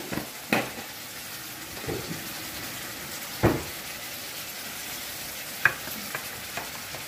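Spice masala frying and being stirred in a pan, a steady low sizzle broken by occasional sharp spoon scrapes and clicks, close up with no talk.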